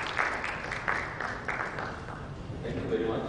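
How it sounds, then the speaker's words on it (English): Audience applause at a healthcare summit in Rajasthan, a steady wash of clapping from a large indoor crowd lasting several seconds at moderate level. "A round of applause for Dr."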